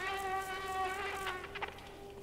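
Mosquito in the video game Limbo, a steady, thin, high whine that stays close and constant throughout with a few faint clicks, no talking.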